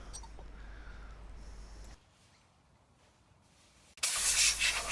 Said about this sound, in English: Blowing the old brake dust out helps to avoid brake squeals and other noises after you fit the new brake pads